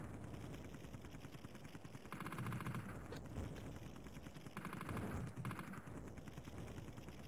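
Enemy gunfire in an Amiga game crackles as a rapid, faint, mechanical stream of shots, growing heavier in two bursts around the middle and later, with a retro synthetic texture.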